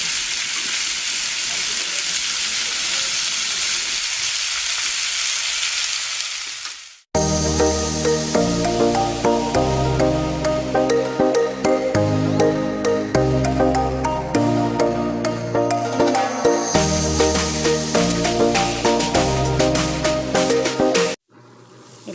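Small shrimp stirred into a frying pan for a coconut-milk taro dish, a steady sizzle under rhythmic stirring and scraping, close and fairly loud, with a short pause partway and an abrupt stop near the end.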